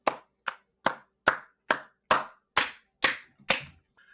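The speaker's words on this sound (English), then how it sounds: "Can I get a little applause?" Single sharp hand claps repeat at an even, slow beat, about nine in a row, close and distinct with silence between them, ending with a faint trailing sound.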